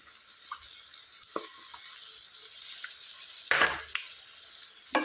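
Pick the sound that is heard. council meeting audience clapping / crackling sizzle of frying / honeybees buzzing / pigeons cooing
crackling sizzle of frying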